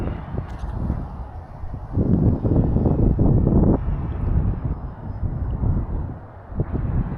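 Gusty wind at over 10 mph rushes past the microphone while an FT Explorer model airplane flies, the roar swelling and easing in loud buffeting waves.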